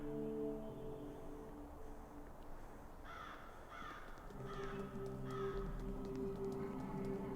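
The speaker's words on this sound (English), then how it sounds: "It's inhabited by dozens, if not hundreds of crows?" Many crows caw in a game world with a treetop hut, overlapping harsh calls from a dense flock that builds louder partway through, over a steady ambient drone.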